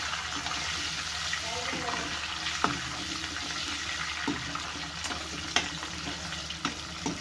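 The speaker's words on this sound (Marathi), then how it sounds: "तर आपल्याला चण्याची डाळ उडदाची डाळ थोडीशी गोल्डन होईपर्यंत परतून घ्यायचं आहे." Chana dal and urad dal frying in oil give a steady low sizzle with occasional spoon clinks and scrapes. Faint running water can be heard in the background.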